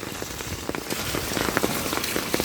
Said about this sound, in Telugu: కడప డిస్ట్రిక్ట్ ఒరుగుంట్ల చూడండి ఎంత పెద్ద పెద్ద వర్షం వస్తుందో